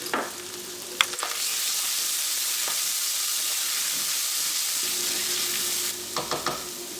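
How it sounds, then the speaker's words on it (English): Garlic, ginger, green onions and tobanjan chili bean paste stir-frying for mapo tofu, a steady loud sizzle with a few sharp clacks of a utensil against the pan near the start and end. "Then add the tobanjan and fry it again for about another minute."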